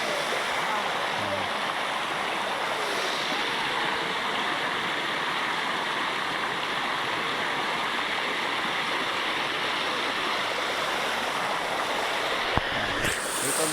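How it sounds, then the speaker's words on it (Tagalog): Flowing stream water at an outdoor spot, a steady broad rushing wash that stays even and fairly close throughout, with a brief knock near the end. "Ayan, agos ng tubig oh."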